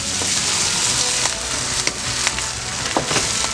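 Egg fried rice stirred in a hot pan, a steady sizzle under scattered scraping and clicking as the spatula moves the rice, close and fairly loud with no talk.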